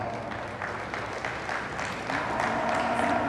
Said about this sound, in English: Let's give all these breeders a round of applause